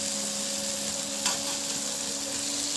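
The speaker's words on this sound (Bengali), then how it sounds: "টমেটো কুচি দিয়ে আবারও নেড়ে নেব ভালো করে।" Chopped tomato being stirred into frying garlic in a pan for a Bengali potato, pointed gourd and fish curry, a steady low sizzle with a brief clink of the spoon partway through.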